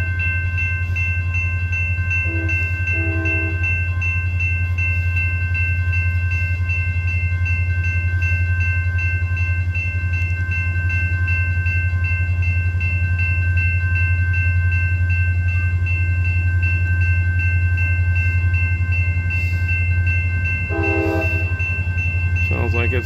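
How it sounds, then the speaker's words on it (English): A northbound CSX local freight train rumbles past in Plymouth, Michigan, its diesel locomotive droning loud and steady for over twenty seconds, with horn blasts sounding near the beginning and again near the end. "We got a northbound train coming here."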